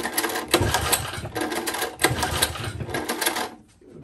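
An old Tecumseh small engine starts and runs, a loud close continuous rattling chatter with uneven pulsing that cuts out near the end.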